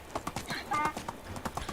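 Horse hooves clip-clop in quick, steady beats in Medieval Dynasty, a ridden mount trotting close by while a voice talks over the footfalls.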